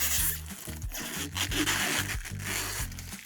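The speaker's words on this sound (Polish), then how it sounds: "ja sobie jeszcze zerwię tą folię" Protective plastic film is ripped off the casing of a 100Ah battery in a series of close, crackly tearing pulls, with no talking.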